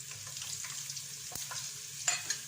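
Cumin seeds, chopped garlic and ginger fry in hot oil for a vegetable curry, giving a steady close sizzle with light stirring scrapes and a couple of sharper crackles near the end, no voices.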